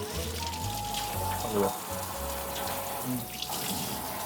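Shower water runs steadily while a Shiba Inu is washed, a constant splashing hiss with people talking over it nearby.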